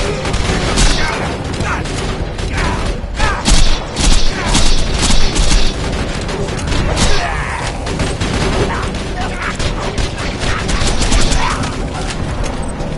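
Shotgun blasts and gunfire in an action video game, a loud, dense run of booming shots and mechanical clatter lasting throughout, with game voices talking over the fire.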